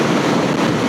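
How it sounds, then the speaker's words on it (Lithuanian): Strong wind roaring over the microphone while riding a bicycle on a stormy day in Lithuania, a loud continuous buffeting rumble with no voices. "Jūs net neįsivaizduojat, koks didelis vėjas ir kaip jis plešia nuo moco."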